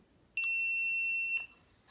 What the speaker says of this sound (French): dès que je scanne le mauvais badge, normalement le buzzer devrait sonner.